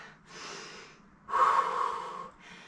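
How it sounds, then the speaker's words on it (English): Heavy, deep breaths after a lower-body strength circuit with dumbbells and a step bench: a soft inhale followed by a louder, rushing exhale, close up with no talking. "Deep inhales and exhales."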